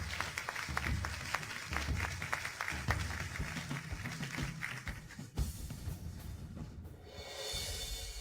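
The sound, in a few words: warm applause welcoming the project director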